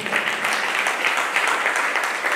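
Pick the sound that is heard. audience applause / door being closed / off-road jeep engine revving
audience applause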